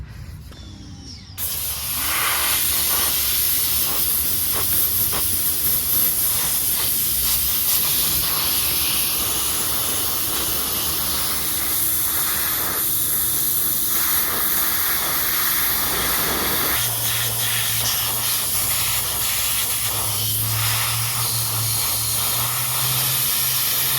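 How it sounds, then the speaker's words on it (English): A pressure washer blasts water onto a car grille during Plasti-Dip removal, a loud steady hissing spray running continuously close up, with a lower rumbling shift in tone partway through. "The pressure washer works a lot better than what I was doing."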